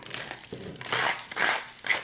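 Excess glass is scraped off a DIY diamond glass accessory by hand, giving a close, gritty scratching and crinkling sound in several short strokes.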